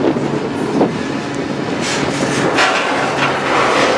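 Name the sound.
train pulling into McCook, Nebraska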